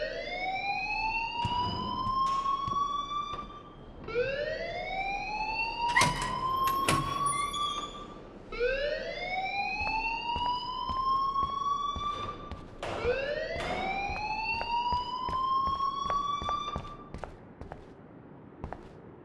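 A rising, wailing alarm sweeps up and holds, repeating about four times at steady intervals in a school in the game Life is Strange, fairly loud and alone with faint background clatter.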